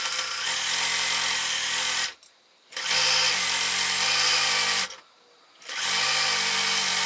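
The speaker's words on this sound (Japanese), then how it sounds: "ここもう一回外表で縫い合わせていきます" A sewing machine runs in three steady bursts while stitching fabric pieces together for a bag, its fast mechanical whir close and loud, broken by two short pauses.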